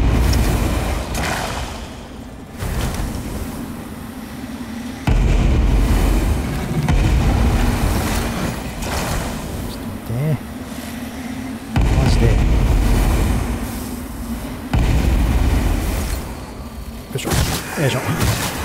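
Explosions and heavy thuds in the video game Lords of the Fallen, booming bursts that recur throughout combat amid dense game noise, with someone talking over them.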